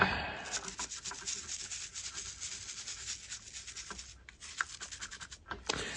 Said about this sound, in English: Even as I scrub, I've already washed over this a couple times.